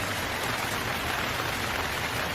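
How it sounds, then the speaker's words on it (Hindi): Steady rain falls on a surface, a dense, even patter with no other sounds. "बारिश शुरू हो गई है"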